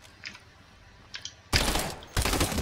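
Burst SMG gunfire in a video game: two loud, dense bursts of rapid shots, the first about half a second long and the second shorter, with only quiet game ambience before them.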